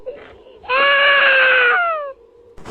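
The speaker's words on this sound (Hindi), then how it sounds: "हवेली के किसी कोने में से किसी बच्चे की रोने की आवाज़ सुनाई दे रही थी" A child's crying serves as a sound effect in a haunted mansion horror story. It is one loud, sustained, wavering wail up close, framed by quiet moments before and after.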